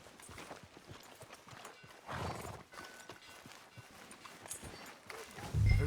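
Horse hooves clip-clop in Red Dead Redemption 2 during a street scene, a steady rhythm of light strikes with a brief horse whinny, moderately close amid game ambience and a louder thud at the end.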